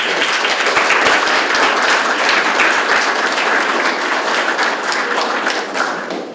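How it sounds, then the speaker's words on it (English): Audience at the 2016 Orlando Sentinel Spelling Bee breaks into steady applause, dense clapping that stays loud and even before tapering slightly at the end. "Let's give them all a round of applause."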